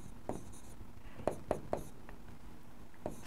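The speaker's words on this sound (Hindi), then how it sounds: "पांचों को लिख देता हूँ।" A teacher writes on a classroom board during a lecture, giving a handful of short, crisp marker or chalk strokes spaced irregularly over a quiet room, close and moderately loud.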